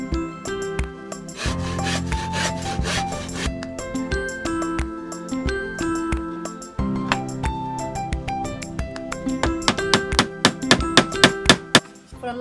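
Pallet wood pieces are cut and sanded by hand for a small kids' table, giving close, steady rasping and rubbing strokes that end in a quicker series of short scraping passes.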